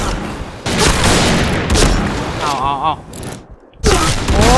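Rapid bursts of video game gunfire crackle loudly and close, with booming shots and mechanical clatter, broken by a brief quiet gap and a whistling tone before the firing resumes.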